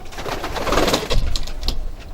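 A blue cock pigeon coos inside a racing-pigeon loft, its soft, low, throaty calls close by over a steady background of other birds rustling and murmuring.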